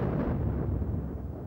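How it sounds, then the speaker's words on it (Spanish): A World War I artillery shell explosion heard as a loud, dense rumbling roar that fills the short moment and slowly loses its brighter edge as it fades. "Oías una explosión y todo se llenaba de metralla."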